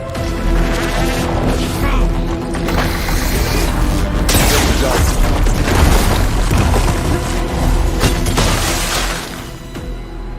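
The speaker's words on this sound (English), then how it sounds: "Grenade!" A grenade blast in the Horizon Forbidden West video game, a loud booming crash with shattering debris that fills the mix for several seconds amid busy game sound.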